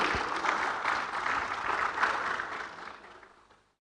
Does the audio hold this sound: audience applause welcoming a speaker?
yes